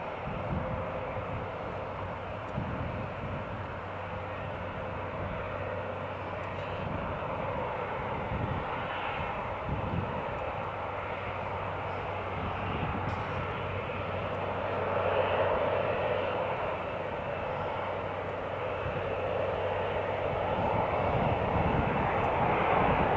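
Jet aircraft engines at Newcastle International Airport give a broad, steady roar from a distance, swelling slightly louder toward the end, with no talking.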